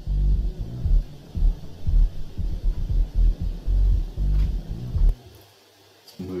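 Bass-heavy party music heard muffled through a wall, as if from inside a bathroom at a party, with thumping low beats that continue steadily and then drop away near the end.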